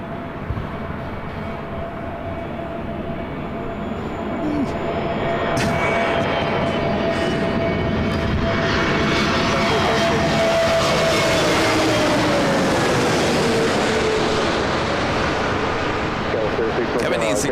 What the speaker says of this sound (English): American Airlines Flight 1986, coming in from Reagan National.